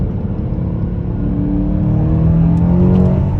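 A BMW M6 engine hums steadily and rises in pitch as it revs up, a continuous whirring drone with no voices.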